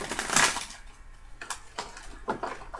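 Tarot cards being shuffled up close, with a loud riffling burst followed by several shorter papery flicks and taps, no talking.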